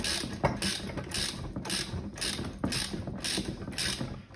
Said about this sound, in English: So I'm going to use the Allen key they've given me.